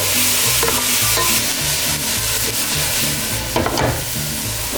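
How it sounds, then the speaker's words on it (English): A pan sizzles loudly and steadily while being stirred during preparation of an enchilada casserole, a dense close hiss with a few scraping stirs near the end and no talking. "starting to sizzle"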